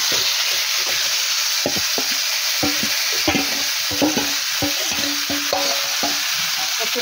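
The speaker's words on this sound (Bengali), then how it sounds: "এঁচুড়গুলোকে কষিয়ে নেব।" Green jackfruit stir-fried in a pan over a constant hiss of frying, with a quick run of knocking, scraping spatula strokes that grow busier toward the end.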